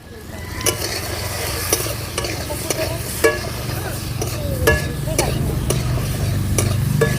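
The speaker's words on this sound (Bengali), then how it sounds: "এবারে আমি প্রথমে আলুগুলো ভেজে নেব দিয়ে দেব পরিমাণ মতো লবণ হলুদের গুঁড়ি" Potatoes frying in oil with salt and turmeric, a steady close sizzle with repeated sharp scraping clicks of a spatula against the pan.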